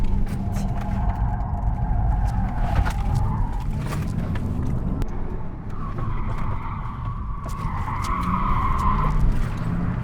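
An Audi RS e-tron GT electric sports car accelerates hard through curves, with tyres squealing and a rising electric whine over heavy, close road rumble.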